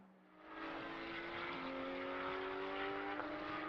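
A Vortex race car in a GT endurance race at Mugello sweeps past the commentary box, its engine rising quickly from near silence to a loud, steady roar with a sustained tonal whine that holds close for several seconds.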